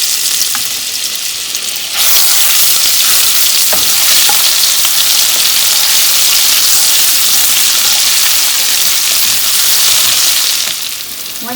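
Ginger garlic paste fries in hot oil and butter over a medium-high flame, a loud, steady hiss and crackle that jumps up sharply after a couple of seconds and holds strong before easing.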